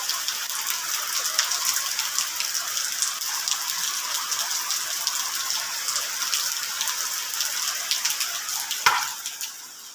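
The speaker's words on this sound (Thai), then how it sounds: "วันนี้ฝนตกค่ะ" Steady rain falls outside, a dense, even hiss of drops on surfaces with a single sharp knock near the end.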